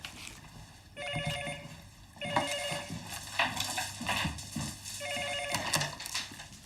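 An old-style telephone bell rings in two bursts of repeated trilling, fairly close and clear, with a pause between them and low room noise underneath, no talking.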